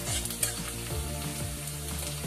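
Spices crackle and sizzle steadily in hot oil for a tempering for ridge gourd curry, a dense continuous frying hiss with small pops, close and moderately loud.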